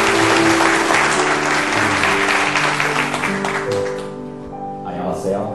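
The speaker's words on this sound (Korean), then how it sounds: "우리 제이슨마 목사님은 한번 박수로 환영해 주십시오" A church congregation bursts into loud, dense applause to welcome a visiting pastor, the clapping swelling over organ-like sustained music, then thinning out toward the end as a voice is heard.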